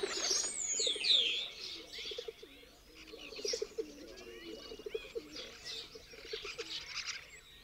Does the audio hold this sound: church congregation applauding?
no